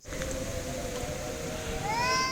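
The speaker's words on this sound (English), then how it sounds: "You can hear the sirens in the background too." Faint storm warning sirens wail and rise in pitch in the distance, barely above a low outdoor rumble.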